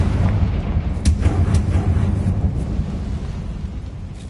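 Confringo spell explosion in Hogwarts Legacy, a deep rumbling blast with a few sharp cracks early on that rolls on and slowly fades, loud, with no talk.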